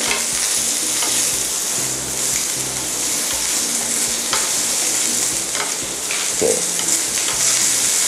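Loud, steady sizzling of sea bass frying in a hot pan, a constant crackling hiss with occasional pops.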